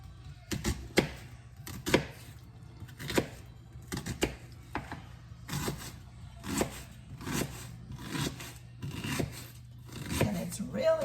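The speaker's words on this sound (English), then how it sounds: "So we're cutting up all the onion into small pieces." A knife chops an onion into small pieces on a board, with sharp, close, fairly regular cuts about once a second.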